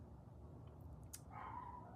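A dog sounds faintly from far away, with a couple of soft distant yaps followed by a thin, drawn-out whining call over a quiet room hum.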